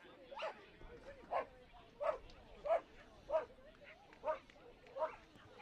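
A dog at an international agility festival gives a series of about eight short, evenly spaced barks or yips, fairly faint and set against a quiet arena background.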